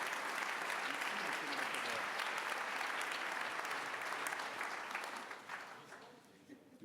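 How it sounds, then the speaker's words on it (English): An audience applauds a guest speaker at an interview event, steady broad clapping held for several seconds before thinning out at the end. "let's give him a round of applause"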